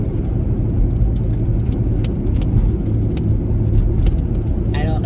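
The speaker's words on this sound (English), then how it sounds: "So I'm gonna drive around the neighborhoods." A van rolls through residential neighborhoods, its engine and road noise forming a steady, loud low rumble throughout, with faint rattles on top and a brief chirp near the end.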